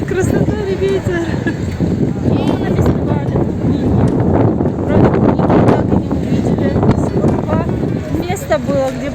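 Strong storm wind at a strawberry festival in Krasnodar, buffeting loudly and continuously with rumbling gusts, while a crowd of voices talks throughout.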